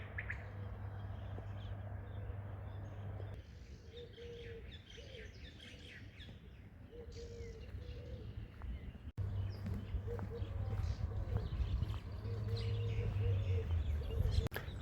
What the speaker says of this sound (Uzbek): Qushlarda sayrashni eshityapsizlarmi?